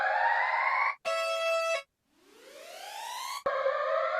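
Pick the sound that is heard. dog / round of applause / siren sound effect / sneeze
siren sound effect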